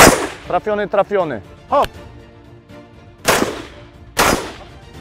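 Two sharp, loud AK-47 rifle shots ring out a second apart near the end at a shooting range, following short shouted speech.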